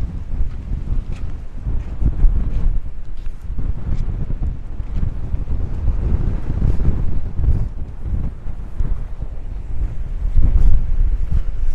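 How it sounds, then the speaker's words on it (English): Strong wind buffets an outdoor microphone with constant low rumbling gusts that swell and ease for the whole stretch, growing loudest near the end, with no voices. "Damn, it's too windy today"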